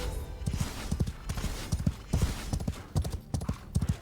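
Hoofbeats from a galloping horse ridden in the video game Warhaven, a fast, steady clip-clop rhythm of dull thuds running throughout, close and fairly loud with no speech over it.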